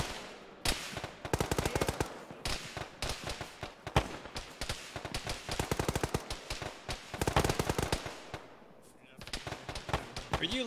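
Rapid machine gun fire from a mounted MG in a military video game, with long rattling bursts alongside other gunfire, loud and nearly continuous for the whole stretch. Voices talk over the shooting.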